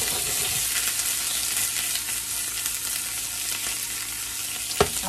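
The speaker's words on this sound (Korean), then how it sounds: "버터가 좀 배어들게 좀 더 앞뒤로 노릇하게 구워주시면 돼요." Chicken legs pan-frying in garlic butter for a Korean soy sauce chicken dish, with a steady, close, crackling sizzle throughout and a single sharper pop near the end.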